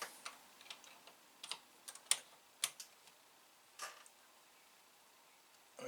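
Sharp plastic clicks and small snaps as a key is pried off an Atari 800XL computer keyboard, a dozen or so quiet close taps scattered irregularly with no talk.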